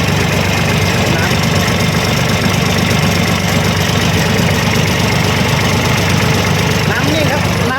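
A used tractor in original condition, at a tractor dealer in Kalasin, Thailand, runs with a constant loud chugging engine close by, while people talk over it.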